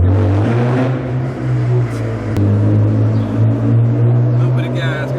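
A straight-piped BMW M road car idles loud and close with a deep, steady exhaust drone, its note lifting slightly under light throttle, while people talk inside the cabin.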